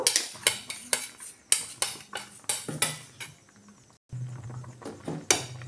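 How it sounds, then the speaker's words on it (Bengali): Rice flour is stirred into milk in a bowl, a spoon clinking and scraping against the bowl in a quick, irregular series of close taps, with a softer low rumble after a short pause. "চালের গুঁড়িটা গুলে দিয়ে দিলাম।"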